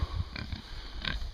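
Pigs grunting and snuffling in a farm pen, a few short low grunts spread across the moment, close by and moderately loud.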